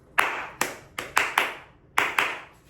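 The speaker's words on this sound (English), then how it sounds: "I started clapping." One person claps in a kitchen, seven sharp, separate claps in an uneven rhythm, close by and clear against a quiet room.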